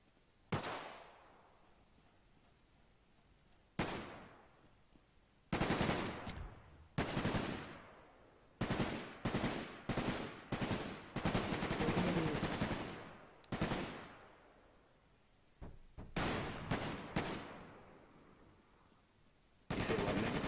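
Gunfire in Garry's Mod military roleplay: single loud shots and rapid automatic bursts come in clusters with short silent gaps, close and sharp, each followed by a brief echoing decay, with no speech.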